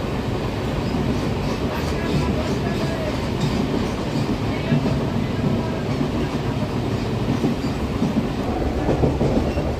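Passenger train on a quiet midday run, a continuous loud rumble of wheels and carriage with faint rhythmic clatter, heard from on board with no talk.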